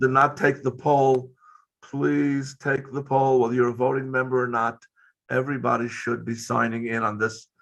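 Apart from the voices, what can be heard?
No everyday noises stand out.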